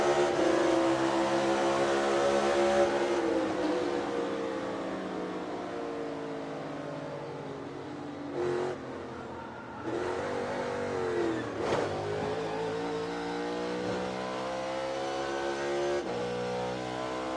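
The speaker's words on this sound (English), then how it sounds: "Cup 1 here, Larson Blaney in-car here, going around the racetrack, lap 135." In-car engine audio from a NASCAR Cup race car on track at lap 135, a loud sustained roar that rises and falls through shifts and lifts, with brief dips and gear changes along the way.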